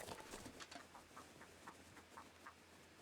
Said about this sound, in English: There are the chickens!